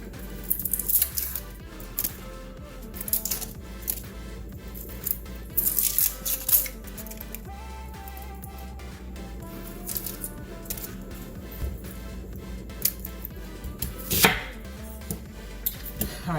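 A knife chops through an onion on a cutting board, close crisp thuds in irregular bursts and quick runs, with no voices.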